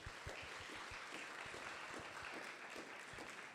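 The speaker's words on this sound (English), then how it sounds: "I do want to give a round of applause to our AV support staff." Workshop audience applauding AV support staff, a steady wash of many hands clapping with a few sharper individual claps standing out, moderately distant and even throughout.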